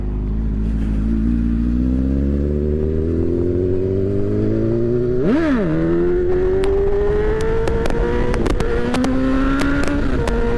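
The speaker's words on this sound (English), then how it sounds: "I think that's a Lambo, guys." A car thought to be a Lamborghini drives past, its engine rising in pitch as it approaches, peaking in a brief swoosh near the middle, then continuing to hum steadily; loud and close throughout, with no talk.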